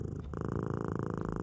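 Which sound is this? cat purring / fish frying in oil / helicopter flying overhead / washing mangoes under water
cat purring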